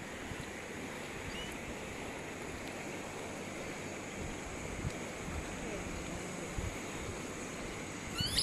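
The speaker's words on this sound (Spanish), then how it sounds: "Está bastante lleno el río, está caudaloso." The full, fast-flowing Tárcoles river rushes in a continuous broadband roar with some wind buffeting, steady and close throughout with no clear voices.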